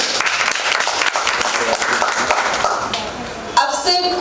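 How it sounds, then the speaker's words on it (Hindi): A crowd claps loudly and steadily at a college stage event just before a play, with dense applause running throughout and a few voices mixed in. "तो उनके लिए भी जोरदार तालियां हो जाए।"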